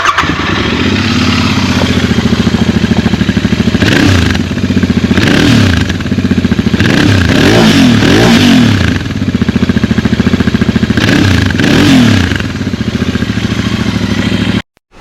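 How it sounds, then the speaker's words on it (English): Royal Enfield Interceptor 650 motorcycle engine running loud and close, rising and falling through several throttle revs over a steady mechanical clatter, with no talking. "we're just going to cut to a short sound clip of the bike so you can hear how it sounds"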